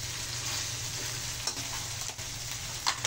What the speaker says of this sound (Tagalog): Gisang-gisa na yung kamatis at nilagay yung ating tahong.